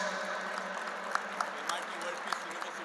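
Audience applause at an interfaith harmony conference, a steady wash of clapping with a few distinct claps standing out near the end.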